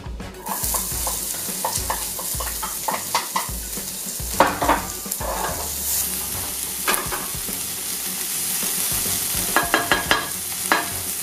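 Onions frying in olive oil in a pan, a loud, continuous sizzle broken by frequent rhythmic spatula scrapes and clinks against the pan, close up.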